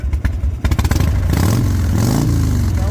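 A Harley motorcycle engine putters loudly up close, then revs up into a steady, throaty roar.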